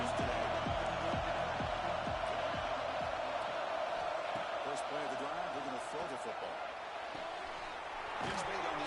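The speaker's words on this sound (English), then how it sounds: "It's early, but this crowd is fired up. Listen to this noise here." Roaring stadium crowd in an FSU vs Notre Dame college football video game, a dense, loud, sustained wash of cheering with rhythmic thumping chants underneath and a voice talking over it.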